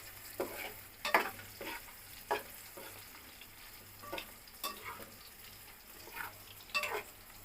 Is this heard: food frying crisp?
yes